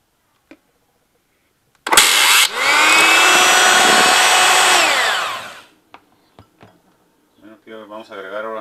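Shrimp fritter batter being beaten with an electric mixer: a loud, high motor whine starts abruptly, runs steadily for about four seconds, then stops, followed by a few clicks and brief speech.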